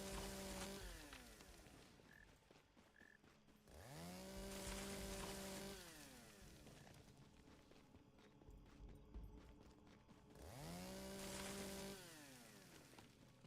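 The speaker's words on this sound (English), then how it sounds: "Sounds like an electric chainsaw." Electric chainsaw cutting wood in the video game Once Human, with repeated bursts of motor whine rising and falling in three cutting passes, separated by quieter ambient rain and footsteps, fairly faint overall.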